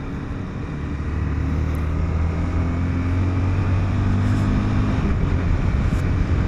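Car engine driving through repeated clutchless upshifts, a steady loud drone with harmonic tones that hold and step in pitch, continuous and close throughout with no talk.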